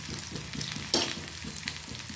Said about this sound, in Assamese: মোৰ এতিয়া তেল গৰম হৈছে, মই এতিয়া এখিলাকৈ পালেং শাক দি দিম।